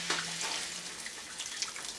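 Chicken stock poured into a pan of mushrooms and marsala wine, a steady soft liquid splash and trickle running continuously for a couple of seconds at close range, with no talking over it.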